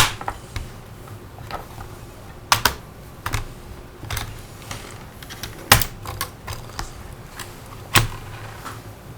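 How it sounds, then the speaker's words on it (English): Plastic clips snapping and cracking as an Acer Aspire V5 laptop case is pried apart around its edges, with sharp isolated clicks at irregular intervals over a low steady hum, close and fairly quiet. "around the edges of the laptop itself and then start to prise it apart"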